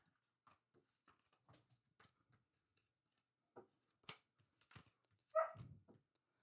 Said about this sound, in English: Oh, that puppy dog. He waits till I go live and I'm talking all over the world. And then he does this.